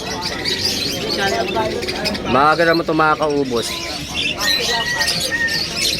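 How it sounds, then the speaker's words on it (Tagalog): Pigeons, doves and other birds at a busy pet market in Malabon chirp, coo and squawk nearby, crowding around during hand feeding, while a person speaks over the birdsong. "Kakarating pa lang, pinagkakaguluhan ng mga ibon."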